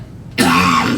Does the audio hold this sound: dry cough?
yes